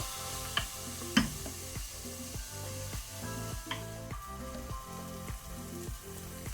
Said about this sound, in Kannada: ಟೊಮೆಟೊ ಸಹ ಒಳ್ಳೆ ರೀತಿ ಫ್ರೈ ಆಗಬೇಕು.